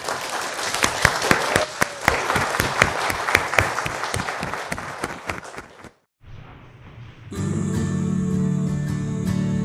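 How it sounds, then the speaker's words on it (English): A church congregation applauds at a confirmation service, sustained clapping from many hands filling the space for about six seconds, then a short hush before steady organ or keyboard music begins. "I think a round of applause is in order."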